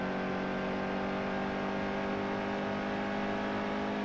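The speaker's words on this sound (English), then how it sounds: "If the engine sounds too loud or too quiet, let me know." Race car engine in the NASCAR Heat 2 stock car racing video game, a loud steady high-revving drone with layered harmonic whine, sustained without a break and with no talk.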